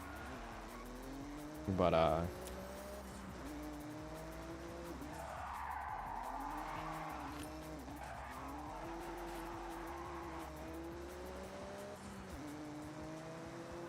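A car in the Forza Horizon 6 racing game spins out under braking, with a loud tire squeal and skid over a steady engine drone, while a voice speaks briefly.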